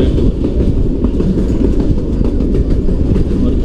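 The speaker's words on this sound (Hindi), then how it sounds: "जाफर एक्सप्रेस जो है वो एंटर हो चुकी है माउंटेंस के अंदर" Jaffar Express passenger train running through the mountains of the Bolan Pass, with a loud, steady low rumble and continuous rhythmic clatter of wheels on rails for the whole stretch, close and unbroken.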